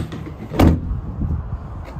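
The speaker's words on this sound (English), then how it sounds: "All the doors open up nice and easy, lock into place." A door on a 2016 Ford Transit Custom van opens with a single short clunk partway through, followed by quieter handling noises and a faint latching sound, with no talking.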